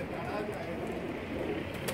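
Pigeons on a rooftop loft coo softly and continuously, a low murmuring flock sound with faint rustling, fairly close and steady throughout.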